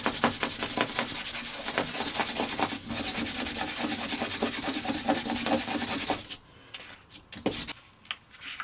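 Adhesive lettering being rubbed and peeled off a glass window, a loud, continuous scratchy rasping at close range that breaks briefly partway through, then trails off into a few scattered scrapes and taps.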